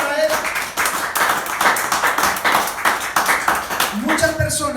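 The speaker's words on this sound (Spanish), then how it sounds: "Vamos a aplaudirlo, si lo va a aplaudir, que sea para Él." A church congregation claps along in a rhythmic, repeated beat of many hands, fairly close and loud, with voices talking over the clapping.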